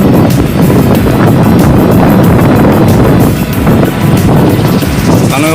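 Gale-force wind buffets the shore at Digha beach as a stormy sea churns; a steady, loud, broadband roar of wind and surf with brief gust peaks.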